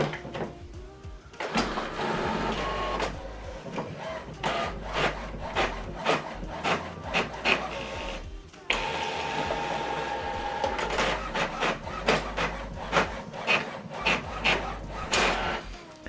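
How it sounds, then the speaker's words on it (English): An HP printer runs through a double-sided colour print job, giving a close series of rhythmic mechanical rubs, clicks and sliding paper-feed strokes that pause briefly midway before resuming at a steady pace. "Now this document is going to print out."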